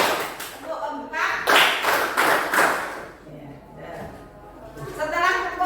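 Classroom children clap their hands in a counting clapping game, a burst of quick claps mixing with lively chatter and voices, then a quieter stretch before talking picks up again.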